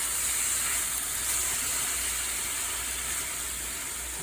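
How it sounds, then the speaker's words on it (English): Steady rushing hiss of water at a rolling boil in a cooking pot, constant and close, with no talking. "Water is boiling"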